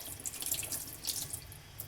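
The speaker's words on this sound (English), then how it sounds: "Let me run a little water on this blade" Tap water runs over a knife blade during whetstone sharpening. The flow is a steady, close splashing hiss with no talking.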